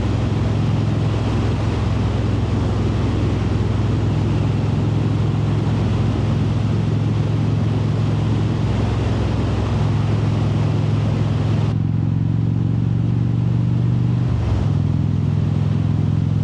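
A vehicle engine accelerates with a steady, droning hum, captured on an Osmo Action 4 camera with its low-cut filter on. The tone holds fairly even, then drops in level near the end.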